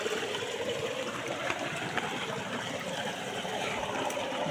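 Clear water flows in a natural stream, a steady, close rush and trickle with faint gurgles, continuous and even throughout without speech.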